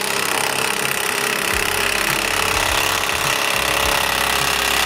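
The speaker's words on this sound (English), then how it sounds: "I'm drilling the holes for the bolts to go through." Power drill boring bolt holes and a saw trimming the legs of a cedar fence enclosure, a steady loud broadband whir throughout with low thumps and knocks underneath.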